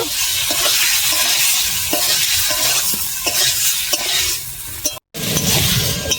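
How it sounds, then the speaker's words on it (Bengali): Fried potato pieces sautéing in spice masala for Bengali aloo dum, with loud continuous sizzling and repeated stirring scrapes of a spoon against the pan, plus a brief cut in the sound near the end. "এবার ভেজে রাখা আলুটা দিয়ে দিচ্ছি, দিয়ে আমি 5 মিনিট ফের কষিয়ে নেব।"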